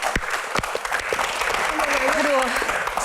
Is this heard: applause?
yes